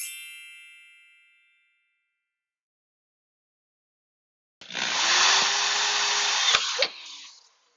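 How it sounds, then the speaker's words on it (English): A fading metallic ding gives way to silence, then a power drill with a titanium bit whines into a hole for about two seconds, close and loud, before winding down. "this drill bit is awesome. I'm loving this thing. Titanium."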